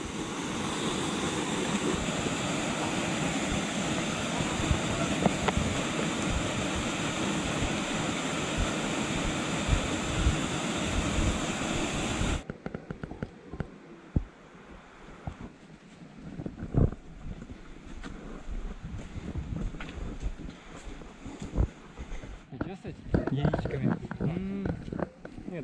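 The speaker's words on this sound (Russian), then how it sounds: "Посмотрим, как он справится с этим водопадом." A waterfall on a hiking trail near Sochi roars as a loud, steady wash of rushing water, then drops to a quieter, splashier flow with intermittent voices talking over it.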